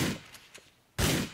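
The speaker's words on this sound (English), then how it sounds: "I'm gonna switch to the shotgun." A shotgun firing in Grand Theft Auto IV: one loud, sharp blast at the start, a faint pair of clicks, then a second heavy boom near the end, close and booming with no talking.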